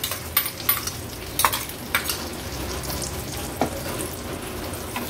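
Turmeric, homemade Agri Koli masala, dried coconut paste and curry leaves sautéing in a little oil, a steady soft sizzle with a few sharp clinks of a spoon against the pan, no voices.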